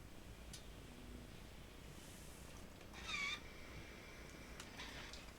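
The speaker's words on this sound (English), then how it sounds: "I have a strange cat." A cat meows softly indoors, one brief faint call with a slight rising tone, set against a quiet steady background hiss and a few small clicks.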